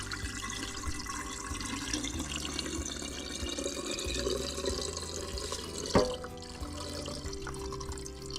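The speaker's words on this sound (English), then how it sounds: "we got some water in there, and then just kind of get in there and churn it around with your hands" Rice being rinsed by hand in a bowl of water, soft sloshing and churning with small splashes and a brief louder slosh near the end, fairly quiet and close.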